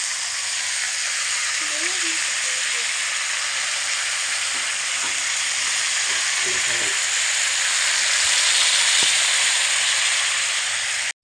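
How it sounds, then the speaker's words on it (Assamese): Cauliflower and potatoes fry in hot oil in a kadai, a loud, steady sizzling hiss that runs unbroken and close, with faint clinks and a brief voice underneath. "ফুলকবি আলুখিনি প্ৰায় ফ্ৰাই কৰা হ'ল"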